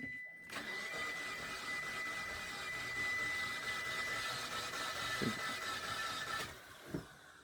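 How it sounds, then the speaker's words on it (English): A car with a 4B12 engine that will not start, on a freshly charged battery, cranks over continuously for about six seconds: a loud, steady starter whir with a rhythmic churning, followed by a couple of faint clunks. "Let's crank it over."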